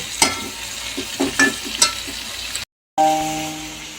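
Ingredients for chicken biryani, including tomato, are stirred in a frying pan, with scraping strokes over a steady sizzle, then a brief cut before the sizzling resumes.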